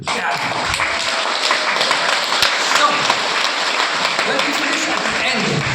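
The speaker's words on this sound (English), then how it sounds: "How would you clap? It's a rock concert." An audience at an awards gala claps hard and fast like a rock concert crowd. The applause is dense and continuous, a loud, steady roar of many hands from start to finish.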